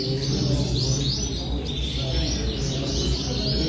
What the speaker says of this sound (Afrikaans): Hier's 'n baie mooi blou voël.